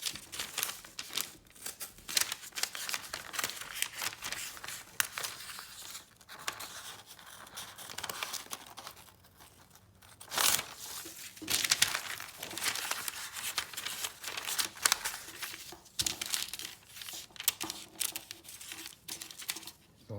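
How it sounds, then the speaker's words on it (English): Scissors snip and crinkle through marbled paper lifted from an antique 1674 book, a close, quiet run of rustling cuts and paper handling with short pauses, no talk. "Okay, so I'm going to carefully cut this guy out."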